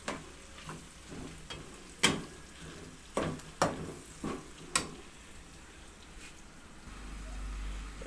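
Cumin, dried coriander and freshly ground spices fry in a pan for an onion mutton dish, giving a faint sizzle broken by scattered sharp crackles and stirring clicks, with no talk.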